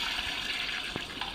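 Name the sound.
toilet flushing in video game The Baby In Yellow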